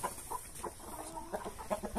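Basilan hens kept as free-range farm chickens, crossed with black Australorp, cluck softly in a steady scatter of short calls, fairly close, with no talk over them.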